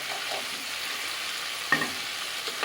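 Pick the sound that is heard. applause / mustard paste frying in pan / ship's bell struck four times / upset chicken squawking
mustard paste frying in pan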